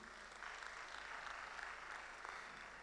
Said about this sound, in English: Please a round of applause for her again.